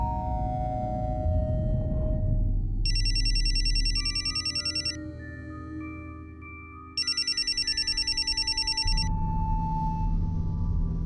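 A telephone rings in two long electronic bursts separated by a pause, clear and fairly close, with no talking.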